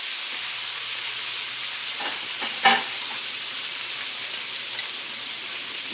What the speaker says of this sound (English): Give it just a second to let it start, let it start getting brown, just a little bit on one side